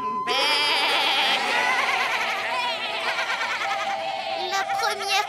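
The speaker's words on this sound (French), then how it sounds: "La première qui arrête de bêler." Cartoon goats bleat in a loud, wavering chorus of overlapping calls that fills the whole stretch, close and continuous with no pauses.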